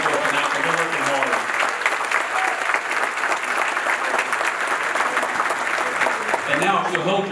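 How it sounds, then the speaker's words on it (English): Banquet guests at an annual membership dinner applaud the servers, a dense, sustained wash of many hands clapping throughout, with a voice breaking in briefly near the end. "a round of applause for all the servers that are getting this done for us tonight"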